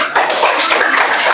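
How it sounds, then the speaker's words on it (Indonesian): A classroom group gives a short burst of applause from a class, dense overlapping claps close by and fairly loud, lasting only a moment with no talking. "Tepuk tangan buat kelompok ini."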